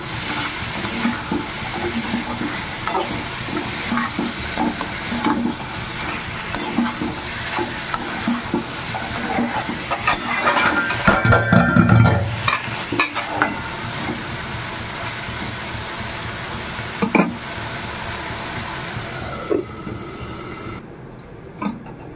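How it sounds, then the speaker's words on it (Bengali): Shrimp fry in a pan with tomato and whole coconut for a Bengali curry, giving a continuous sizzle and crackle with scraping stir strokes and a louder clatter midway before it quiets. "চিংড়ি মাছগুলোও খুব সুন্দর ভাজা হবে"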